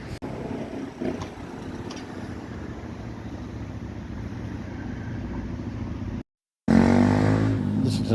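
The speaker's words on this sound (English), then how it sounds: "Listen to that motorbike here as it disappears." A motorbike engine drones past and gradually fades into the distance, followed by a short gap and then another engine sound rising close by.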